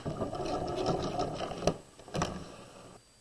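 A sewing machine back stitches along the edge of a tote bag lining, a close, busy mechanical whirr with a few sharp clicks before it stops.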